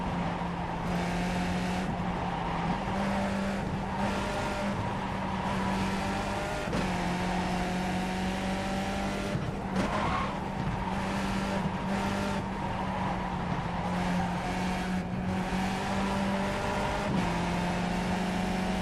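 Skip Barber race car in iRacing at Lime Rock, its engine droning steadily and loud throughout with repeated shifts and brief revs as it accelerates, no talk over it.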